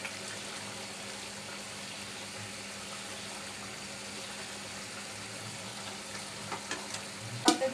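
Rohu fish fries in a pan for a curry, a continuous close sizzle and bubbling at steady intensity, with a few light clinks and stirring knocks near the end.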